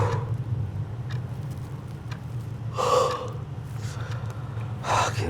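A man yawns at a cluttered desk piled with books and scattered documents: two breathy, drawn-out yawning exhalations a couple of seconds apart, close and moderately loud over a low steady room hum.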